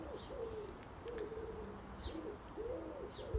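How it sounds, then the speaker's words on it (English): A pigeon or dove coos repeatedly nearby, soft rolling low calls in a loose rhythm of several phrases, with faint higher chirps in the background. "There's bird."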